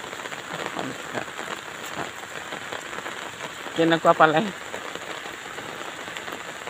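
Rain in Hojai district, Assam, patters steadily and softly on surfaces throughout, while a voice briefly speaks over it near the middle.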